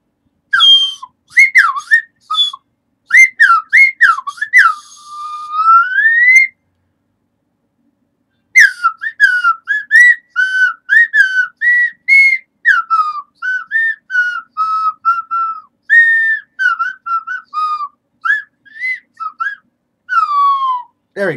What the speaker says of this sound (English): Can I get this in special whistle?